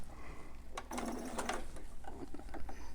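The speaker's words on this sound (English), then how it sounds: "I'm going to back stitch" A sewing machine back stitches a newborn romper seam, a close, fairly faint run of mechanical stitching with short clicks and stops.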